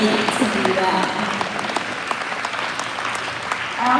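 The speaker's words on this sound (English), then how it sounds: "Let's give them a round of applause." Audience applause for the judges at the Miss WEIO 2025 pageant, a steady crowd of clapping hands filling the room, with a few voices calling out and cheering over it.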